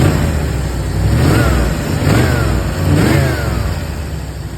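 A Chrysler car engine with headers needing a tune-up revs in three swelling pulses over a rough, loud, close idle, alone without talk.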